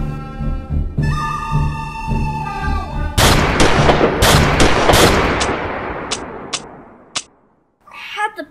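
Gunshots in a short film duel: a loud volley of sharp, booming reports with echoing decay, several separate shots following a tense droning lead-in, then fading to near silence before a brief final clatter.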